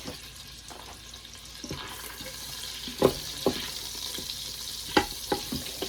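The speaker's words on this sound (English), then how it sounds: "With the other half of the stick of butter, throw it back in your Instant Pot." Butter sizzles in an Instant Pot, a soft hiss running under a few sharp scraping and clinking knocks of a utensil against the pot, with no talking.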